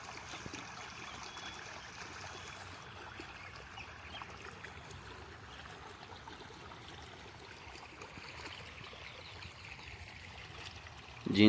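Pumped irrigation water pours steadily into a village field of fodder crop, a continuous rushing flow at close range with no talking.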